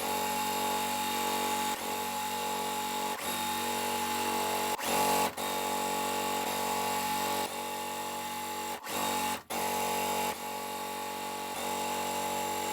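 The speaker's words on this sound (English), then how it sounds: "Now I'm just gonna sew on the bottom part right here." A sewing machine stitching a large quilt block, a steady close whirring hum that runs continuously with brief pauses and quick stops between seams.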